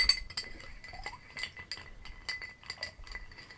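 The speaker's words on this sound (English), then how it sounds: "just stir it up" A spoon stirs a moonshine martini-style cocktail in a glass, making quick, repeated light clinks against the glass in an uneven rhythm, close and clear with no voices.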